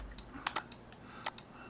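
Keyboard shortcuts are tapped on a computer keyboard in a quiet room: about a dozen crisp, faint key clicks, some in quick pairs, scattered irregularly.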